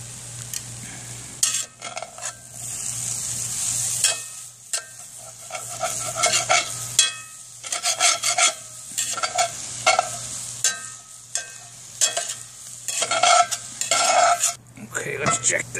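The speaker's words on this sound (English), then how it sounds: "Okay, let's give a quick stir." Hash stirred in a Dutch oven over a campfire, with coals on the lid: repeated scraping and clinking strokes against cast iron over a low steady hum and soft sizzle, close and moderately loud, with brief pauses between bursts.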